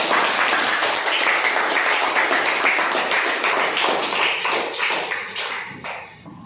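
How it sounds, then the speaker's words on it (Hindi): Loud, dense applause from a group at a children's quiz game, steady throughout and tapering off near the end. "जोरदार तालियां"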